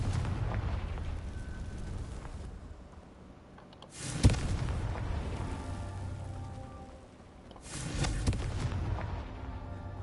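Confringo spell explosions in the video game Hogwarts Legacy, three loud fiery blasts spaced a few seconds apart, each with a sharp crack and rumbling, crackling tail that fades before the next.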